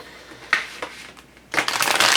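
A deck of tarot cards, the Chrysalis Tarot, gets shuffled at close range: a couple of quick riffles and taps, then a longer, louder burst of cards brushing and flicking together.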